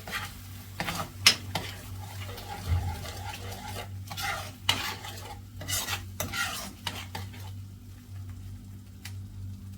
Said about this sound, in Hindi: अब मैं डाल रही हूँ इसमें टमाटो का प्यूरे